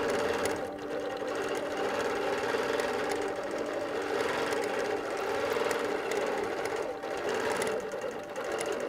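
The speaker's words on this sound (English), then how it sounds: "over here I can just push this button and it will start sewing" A quilting sewing machine running constantly on a stitch regulator setting, giving a steady, loud mechanical whir and rapid needle chatter that holds at an even pace throughout with no talking.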